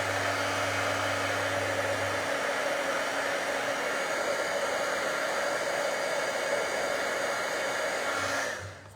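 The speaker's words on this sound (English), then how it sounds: "As long as you've got the wand or the heat tool facing away from your fingers, you won't get burnt fingers." An electric heat tool melts embossing powder on a stamped card, blowing a loud, steady, close whirring hiss with a low hum that cuts off near the end.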